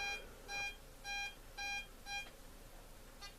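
Metal detector responding to a clad American quarter with five short, evenly spaced high electronic beeps and a faint sixth beep at the end, over a low hiss, with no talking.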